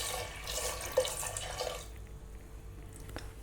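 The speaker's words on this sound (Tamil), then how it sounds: "எல்லாம் சேர்த்து 1 கப் தண்ணி சேர்த்துக்கோங்க." Water pours in a steady, close hiss over lentils in a pressure cooker with tomato, two green chillies, garlic cloves and turmeric for sambar, then stops abruptly after about two seconds, leaving a quiet room.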